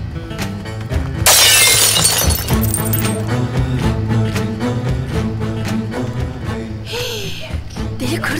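Glass shatters loudly with a sharp crashing burst followed by scattered clinking fragments over a steady backing of music, with a later smaller tinkle of breaking glass.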